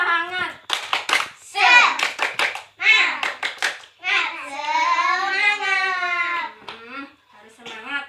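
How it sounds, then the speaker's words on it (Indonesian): A class of children claps together in quick bursts of a rhythmic chant clap, loud and close, mixed with their voices calling out and a teacher speaking. "tepuk tangan untuk semuanya sudah berdiskusi ya, tepuk tangan"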